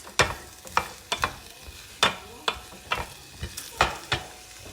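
Vegetables and roasted paneer sizzle in a hot pan as they are stirred and tossed, with a steady frying hiss broken by repeated close scraping strokes of a spatula.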